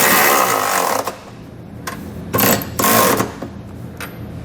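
A 19mm socket tool snugs up the flange nuts on a Curt trailer hitch receiver on a 2020 Ford Edge. It makes loud, rapid rattling bursts, strongest at the start and then in several short spurts close by.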